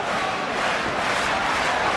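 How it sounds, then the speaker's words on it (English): A boxing crowd roars continuously at the David Haye vs John Ruiz fight, a dense, even wall of cheering with no pauses. "Crowd are loving it too."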